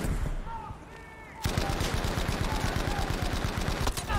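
Gunfire in the video game Battlefield 5 during the Nordlys campaign mission: after a quieter opening, a loud sustained burst of rapid automatic fire breaks out and keeps rattling close by, over a voice heard faintly early on.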